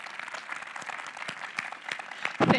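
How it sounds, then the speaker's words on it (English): A conference audience at a hacking security talk claps for a speaker, scattered claps that are soft at first and grow fuller near the end, with some talk. "I would like to ask you for a round of applause just for her because she really deserves it."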